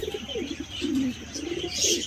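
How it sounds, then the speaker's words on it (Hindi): A large pigeon that has come to drink water coos in a series of soft, low throaty calls, close and fairly quiet, with a little chirping behind. "देखिए दोस्तों ये कबूतर भी आ चुका है यहाँ पे पानी पीने की"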